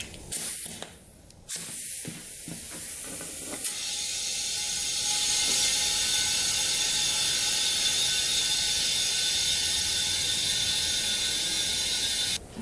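Brief clicks and clatter, then a long steady hiss of air being pumped into a Yamaha Breeze quad tire, continuous and close for several seconds.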